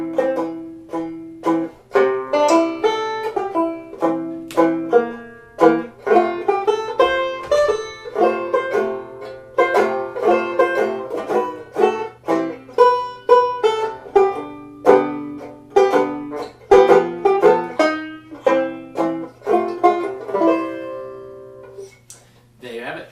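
Tenor banjo in CGDA tuning plays the tune Frankie and Johnny, bright plucked notes and strummed chords in a steady lively rhythm, close and clear with no talking.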